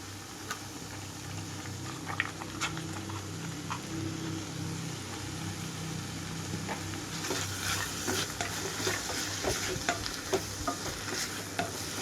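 Curry leaf sprigs and drained chana dal stir-fried with softened amaranth leaves in a pan, a steady low sizzle and bubbling under repeated stirring and scraping, growing brighter and more crackly in the second half; no talk.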